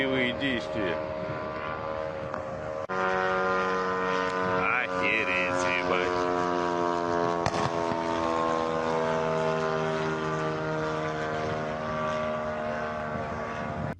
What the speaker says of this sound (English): Drone is flying as at home.